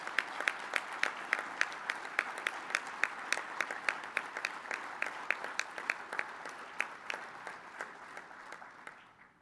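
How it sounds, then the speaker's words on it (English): Applause at a conference plenary session, quiet and somewhat distant, with a few sharp individual claps standing out in a regular pattern over a soft bed of clapping that fades toward the end. "I would just ask for you all to recognize that at this time with a round of applause"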